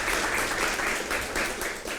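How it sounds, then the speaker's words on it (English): Audience applause after a group presentation, a brief burst of dense, even clapping at steady loudness. "please give them a big round of applause"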